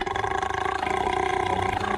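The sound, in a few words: cartoon female character burping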